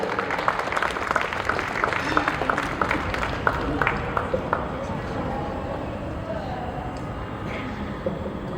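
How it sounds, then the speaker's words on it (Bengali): Applause from a crowd at a poster launch event, a steady patter of many hands clapping that carries on for several seconds before easing off. "জোরে করতালি"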